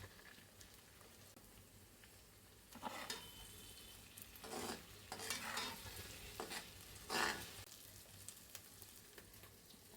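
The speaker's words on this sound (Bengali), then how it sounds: "আমার মশলাটা ভাজা ভাজা হয়ে যাবে" Padma river prawns fry with spices, chili and salt in a pan, giving a soft, constant sizzle broken by several louder scraping bursts of stirring, with no talking.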